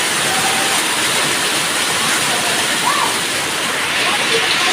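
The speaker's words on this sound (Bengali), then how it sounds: "ওই পাহাড়ের থেকে এত পানি আসছে" Rainwater pours down from the hills in a steady, loud, broadband rush that fills the whole stretch without a break, with faint voices barely audible beneath it.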